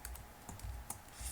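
A computer keyboard typed on in a short burst of soft, quiet key clicks with irregular spacing, close by and alone, while a cryptsetup luksFormat command is entered in a Linux terminal.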